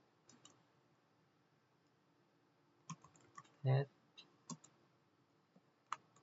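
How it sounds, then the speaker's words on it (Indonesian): Typing a Linux sudo command on a computer keyboard: faint, sparse key clicks scattered across a quiet background, with one brief louder mid-pitched blip in the middle. "Kita ketik lagi sudo"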